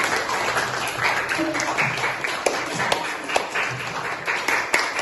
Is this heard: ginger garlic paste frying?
no